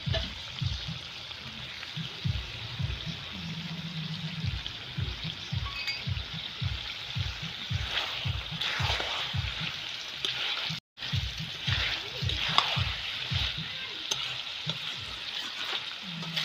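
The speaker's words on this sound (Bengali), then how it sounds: "আর একটু কষিয়ে নেব মাংসটাকে।" Chicken kosha being stir-fried in a pan, a steady close sizzle under regular rhythmic scraping strokes of the spatula throughout, briefly broken by a short gap before the stirring resumes.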